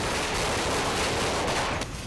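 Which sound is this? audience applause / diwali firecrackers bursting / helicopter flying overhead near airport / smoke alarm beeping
diwali firecrackers bursting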